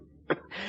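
A single short cough or throat clear, close and fairly quiet, followed by a steady hiss of background noise.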